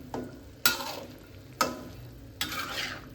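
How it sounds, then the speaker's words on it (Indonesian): Vegetable soup being stirred in a pot, with three or four distinct scraping strokes spaced about a second apart, each fading into a soft liquid swirl, fairly close and without talk. "ini kita aduk lagi"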